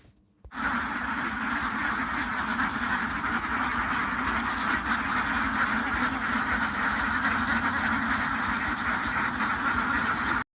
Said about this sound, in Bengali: হাঁসগুলো এখন মাঠে চড়াইতে নিয়ে যাবো